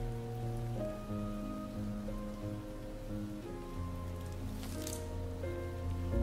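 Steady rain patters on surfaces in the video game Behind the Frame, a soft even hiss that continues under gentle background music with no talking.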